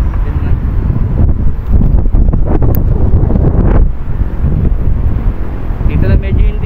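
Strong wind buffets the microphone in loud, steady rumbling gusts, with a voice briefly audible beneath the noise.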